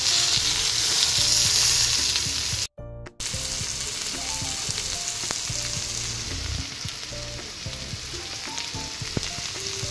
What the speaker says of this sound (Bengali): আলু ভাজাটা বসানো হয়েছে, মোটামুটি হওয়ার পথেই